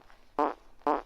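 Two short cartoon fart effects sound from a character walking in a 2D video game, each a buzzy burst about half a second apart, clear and close with nothing else around them.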